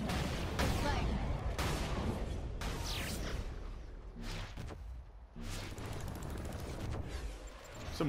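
Explosions and gunfire in the video game Saints Row 4: loud, continuous battle noise with repeated heavy booms and bursts of shots, some quieter gaps near the middle, and faint game voices mixed in.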